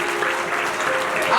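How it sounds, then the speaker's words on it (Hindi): At a Ram Katha religious discourse in a hall in Hyderabad, an audience claps as one dense, steady burst of applause with a faint voice mixed in. "ताली बजाओ।"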